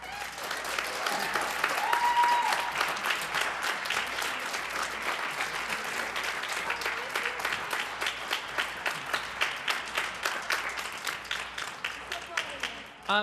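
Sustained applause from an indoor crowd at a high school orchestra concert and senior recognition night, dense clapping that swells early and then thins into a steady rhythmic patter before fading.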